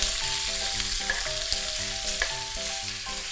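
Pork belly stir-frying in a pan for yakisoba keeps up a steady sizzle with stirring scrapes, heard under background music throughout.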